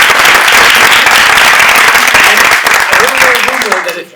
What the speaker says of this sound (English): Let's give Titania Jordan a big round of applause.